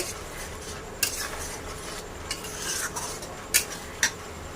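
Spices sautéed for biryani, a faint low sizzle with a few scattered metallic scrapes and clinks of a spoon stirring against the pan.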